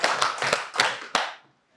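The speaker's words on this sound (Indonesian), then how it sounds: "Tepuk tangan dong buat diri sendiri ya" Hands clap in a rhythmic classroom clapping routine, about five sharp, fairly close claps in an uneven beat, then the sound stops.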